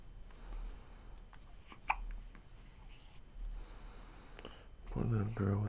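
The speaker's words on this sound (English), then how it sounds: "Poor little girl with the hiccups." A baby girl hiccups a few times, faint and close, under quiet room hum, with an adult's soft voice starting near the end.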